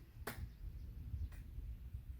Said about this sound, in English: Next, we're going to try clapping.